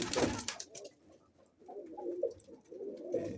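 Pigeons coo in a loft after moulting, several low, throaty calls rising and falling close by after a brief rustling burst at the start, with no talking.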